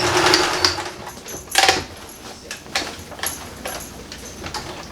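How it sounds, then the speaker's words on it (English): A sewing machine stitches a second row along a seam on recycled denim jeans, giving short, faint whirring runs with a few louder bursts and quiet stretches in between. "I'm just flipping around and coming back up with a second row of stitching."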